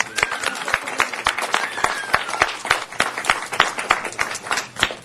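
Applause at a city council meeting: steady, dense clapping from a room of people, sustained and fairly loud throughout, with no talk over it.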